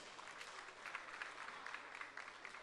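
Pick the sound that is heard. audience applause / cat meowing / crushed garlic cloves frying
audience applause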